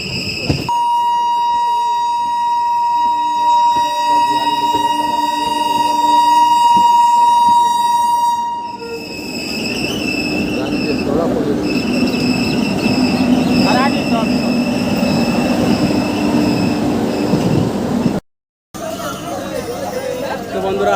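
A Sealdah–Barddhaman local train pulls into Bandel Junction station: a long, steady horn-like tone gives way to rumbling carriages and loud platform crowd chatter, with voices talking throughout.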